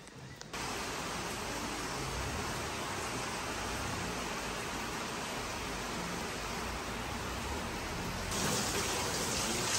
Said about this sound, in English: It's raining in here while I'm working out, and I can't tell you how peaceful this is.